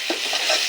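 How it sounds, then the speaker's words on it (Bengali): Onion fries with salt and garam masala in a pan, a brief, steady, close hiss of sizzling with soft stirring touches. "আমি এখানে লবণ, ময় মশলা মানে গরম মশলা দিয়ে পেঁয়াজটা ভেজে নিচ্ছি"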